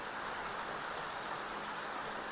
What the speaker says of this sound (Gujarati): મસ્ત મજાનો વરસાદ આવે છે